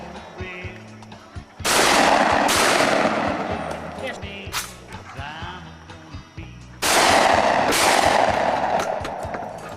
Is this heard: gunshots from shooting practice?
yes